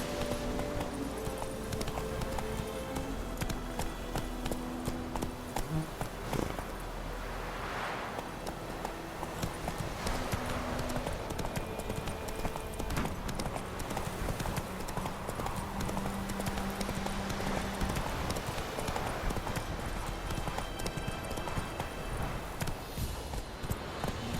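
Roach the horse gallops in The Witcher 3, with rapid, continuous hoofbeats pounding steadily over a busy game soundscape.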